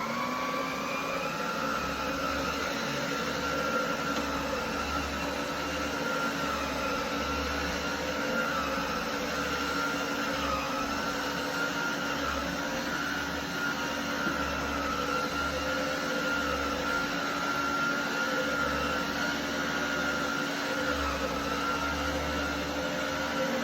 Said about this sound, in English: So let's see how this thing performs a little bit across the carpet and give her a good vacuum.